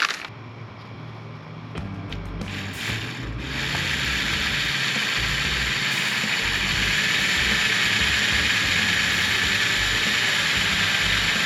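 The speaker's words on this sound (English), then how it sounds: "we're gonna rivet them on because I have rivets" A hand rivet tool fastening panels on an SVO build, heard as a loud sustained mechanical grinding and rasping that grows stronger after a few seconds, with sharp clicks early on.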